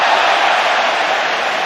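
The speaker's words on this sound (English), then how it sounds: "Crowd applauding the drop of the shoulder" A large stadium crowd at a football match roars and applauds in a dense, continuous wash of noise after a player's skill move, loud and sustained with no distinct voices.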